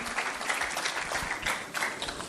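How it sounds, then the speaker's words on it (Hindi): Audience applause welcoming a poet onstage at an international poetry festival, a steady wash of many hands clapping throughout, fairly close and continuous with no voices on top. "दोस्तों मैं जोरदार तालियों के साथ ये कैसर जी के स्वागत की अपेक्षा रखती हूँ"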